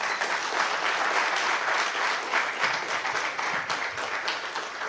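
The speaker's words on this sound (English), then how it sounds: "I request all audience to give a big applause" Sustained applause from a lecture audience after an invited expert talk on Kerala's contribution to mathematics, with many hands clapping in a dense, even roar that holds at a steady level throughout.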